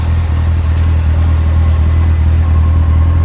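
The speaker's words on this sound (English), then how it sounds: "I can't believe we finally got it idling" A rebuilt 2017 Corvette Z06 engine idles with a steady low rumble, loud and close, unbroken and without voices.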